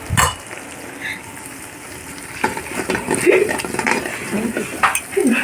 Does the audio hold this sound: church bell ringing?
no